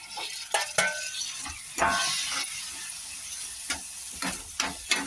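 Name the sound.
tomatoes sautéing with onion, coconut and garlic-ginger paste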